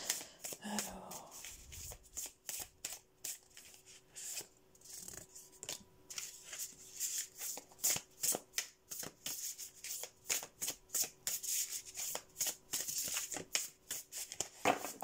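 A deck of oracle cards being shuffled, rapid papery riffles and flicks in repeated bursts, close and soft, with brief pauses between.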